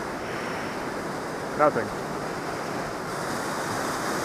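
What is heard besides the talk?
powerful Swiss waterfall rushing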